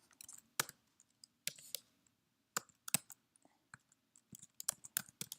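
Computer keyboard typed on in short irregular bursts of sharp, close clicks with quiet gaps between them and no speech.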